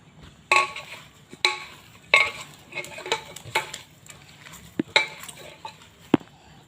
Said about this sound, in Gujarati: હવે હું આને હાથથી મિક્સ કરી લઉં બધું।